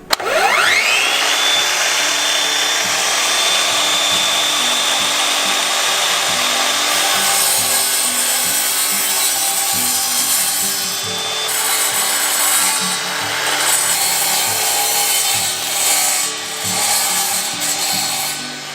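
Ryobi mitre saw cutting a scrap wood slat: the motor spins up with a rising whine, then grinds steadily through the wood, with the tone shifting near the end as the cut finishes, close and loud.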